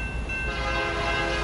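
A BNSF freight locomotive sounds a sustained, multi-tone horn over a low rolling rumble, loud and steady throughout the short moment.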